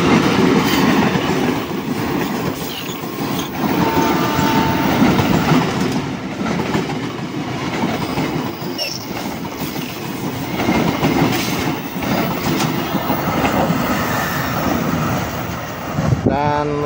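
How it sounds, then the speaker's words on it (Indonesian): A KRL commuter electric train bound for Bekasi rolls steadily past nearby, a continuous rumble with rhythmic clacking of wheels over rail joints throughout, loud and sustained. "Ini KRL tujuan Bekasi."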